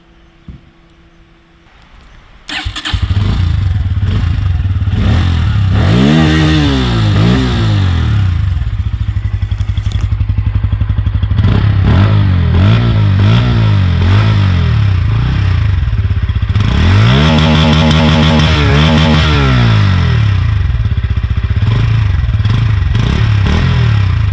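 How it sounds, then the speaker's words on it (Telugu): A Bajaj Pulsar N160 motorcycle starts, then its exhaust settles into a close, loud idle broken by three bursts of rising and falling throttle revs. "అండ్ ఎగ్జాస్ట్ నోట్ అయితే వినండి"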